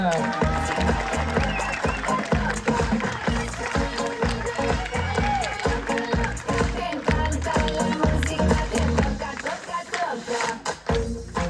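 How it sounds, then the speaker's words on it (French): Applause for a performer at the Marina Viva stage show, clapping and crowd noise mixed with loud rhythmic music throughout. "On peut l'applaudir très fort."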